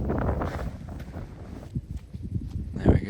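Strong spring wind on a golf course at Woodhall Spa, buffeting the microphone in loud gusty rumbles that rise and fall, with a voice talking over it.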